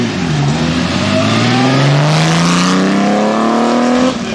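A light 1927 Amilcar with a Porsche six-cylinder 85 PS engine accelerates nearby, its loud engine note climbing steadily in pitch as it pulls away.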